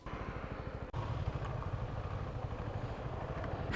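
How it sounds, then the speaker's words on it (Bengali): Several motorcycles set off from a petrol pump after refuelling, with a steady, close engine drone that thickens after a brief sharp click near the start and keeps rumbling on evenly. "সবগুলো বাইক তেল রিফিল করে আবার যাত্রা শুরু করলাম"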